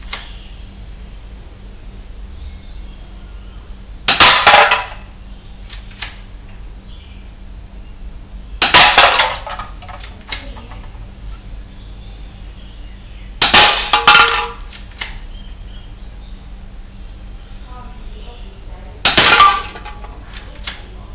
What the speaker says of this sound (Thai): ไปดูการทดสอบการยิงกันเลยครับ